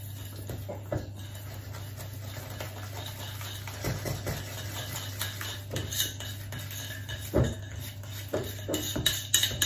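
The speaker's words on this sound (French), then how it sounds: "Et je mélange le tout, toujours à la cuillère." A spoon clinks and scrapes in a bowl while mixing gingerbread spice into panna cotta batter, irregular close taps and stirs at a low level throughout.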